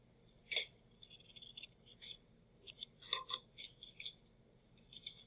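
Scissors snip through a paper graph in a series of small, crisp, close cuts, irregularly spaced over several seconds in a quiet room.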